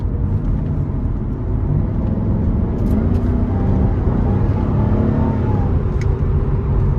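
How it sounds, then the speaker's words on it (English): A Jaguar XKR X150 with a freshly serviced supercharger drives along country lanes, its engine a loud, steady drone inside the cabin with a thin, faint supercharger whine riding on top throughout. "the supercharger's just been serviced. Hear that kicking in and whining as we get through these beautiful country lanes"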